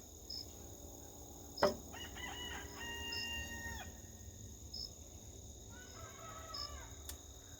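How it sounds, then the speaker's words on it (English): Several roosters crow back and forth in a farmyard, long drawn-out calls rising and falling, one near and others farther off, with a sharp thump partway through and steady insect-like hiss underneath. "My rooster and my neighbor's roosters are having a crowing contest."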